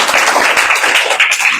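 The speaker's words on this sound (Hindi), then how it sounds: "आप सबकी भरपूर तालियों में" Audience applause at a church Christmas program, a dense, steady patter of many hands clapping close by, holding at an even level for its whole short length.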